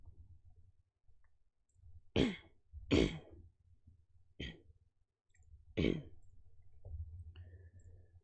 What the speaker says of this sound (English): Oh, I thought I got rid of this cough.